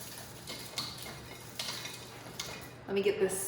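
Dehydrated onion pieces are dropped into a jar, giving soft light clicks and rattles against glass, followed by a brief louder clatter near the end.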